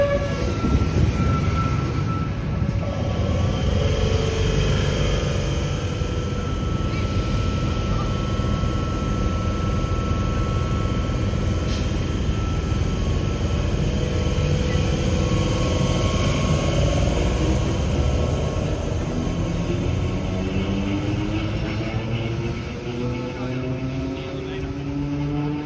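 A Sydney V-set passenger train with a camshaft DCT and DET car pulls into Glenbrook station, producing a steady, close rumble of wheels and motors with a drawn-out tonal whine that rises and bends as it arrives.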